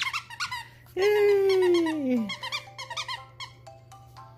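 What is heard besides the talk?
squirrel squeaky dog toy squeaking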